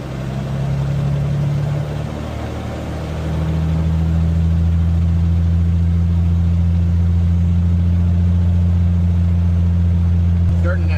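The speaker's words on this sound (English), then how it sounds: "We're gonna go ahead and do a quick run up here, just get the temp a bit higher" A Cirrus SR22 Turbo piston aircraft engine holds a loud, steady drone during a run-up at 1700 RPM with the mixture rich. The pitch steps up once partway through and then stays even and close throughout, with no talk.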